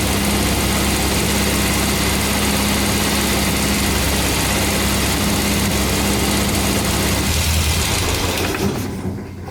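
A Triumph Spitfire engine idles on choke after a head gasket replacement, a loud, steady, close rumble that holds evenly throughout before tailing off slightly at the very end.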